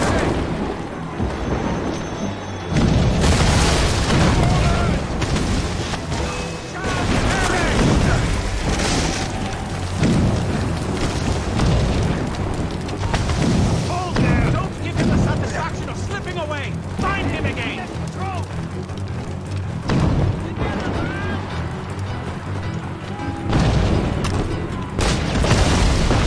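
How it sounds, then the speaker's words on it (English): Mortar explosions in the video game Assassin's Creed Rogue, repeated heavy booms and rumbling blasts over a dense battle din, with voices talking through much of it. "Chevalier is using mortars to start Shay."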